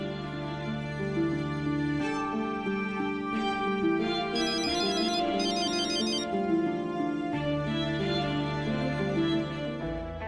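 A phone ringtone plays a steady electronic melody of layered tones for about ten seconds, loud and unbroken, with no voices over it, as a call is placed in a Marathi TV drama.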